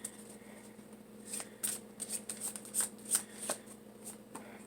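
Tarot cards are shuffled by hand close up in a quiet room. Soft riffling and flicking comes in quick uneven bursts over a faint steady hum, with no voice.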